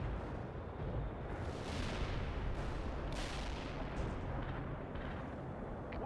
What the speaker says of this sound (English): They're firing at us. We're under attack.